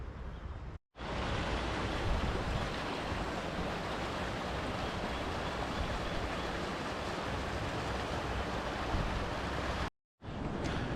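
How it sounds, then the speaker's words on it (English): A strong, bitterly cold winter wind buffets the microphone on Loughrigg Fell in the Lake District, a loud continuous roar that cuts out briefly near the start and again near the end. "Very, very cold today and the wind is getting up"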